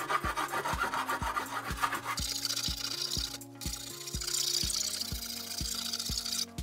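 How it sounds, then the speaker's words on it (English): Coarse file rasping across hardened filler on a part of a BB-9E droid build, a close, steady series of strokes with sharp regular scrapes that grow louder midway, no talk. "I'm going to take this rather coarse file to it just to get off the worst of it."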